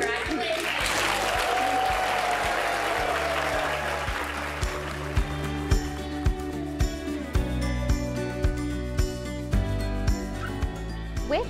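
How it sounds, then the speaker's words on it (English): Audience applause for student artists standing in a museum art gallery, a dense wash of clapping that thins out and gives way to music with a steady thumping beat; voices are heard alongside. "they deserve another round of applause"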